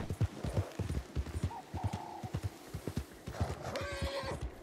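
Rhythmic clip-clop of horse hooves at a steady trot in the video game Red Dead Online, close and clear, with a brief horse whinny partway through.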